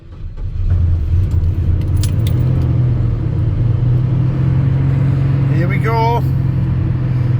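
A 1985 Chevy Squarebody truck's engine catches and settles into a loud, steady low idle rumble close by, with a brief metallic jingle of keys and a short spoken remark over it.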